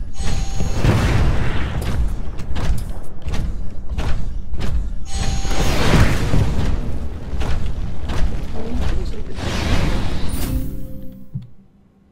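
Rocket explosions in the 2014 Titanfall closed beta thunder down a hallway in heavy, repeated booms and thuds with mechanical clanks, loud and dense, then fading away at the end.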